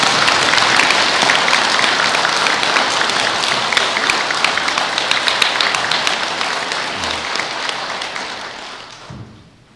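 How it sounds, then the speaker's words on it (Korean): Audience applause at a Buddhist Sunday dharma service fills the hall with dense, sustained clapping that gradually fades and stops near the end. "박수 한 번만 부탁드립니다."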